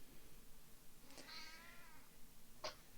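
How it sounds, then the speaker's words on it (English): A house cat meows insistently, one drawn-out meow and then a brief second call, faint against a low background hiss. "My cat is yelling at me."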